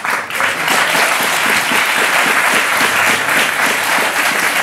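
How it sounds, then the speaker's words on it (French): TV talk-show studio audience applauding a guest, a loud, sustained roar of clapping from a packed crowd, even and unbroken with no speech. "C'est très applaudi déjà, avant que ça commence, tu vois."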